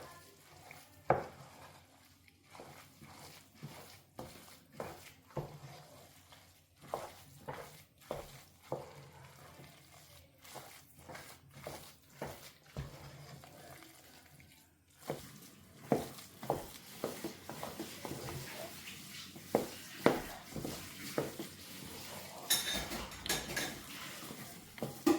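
A spoon scrapes and knocks against a pot while African breadfruit (ukwa) is stirred and mixed, producing repeated clinks and scraping strokes over a faint sizzle, close and fairly quiet with no talking.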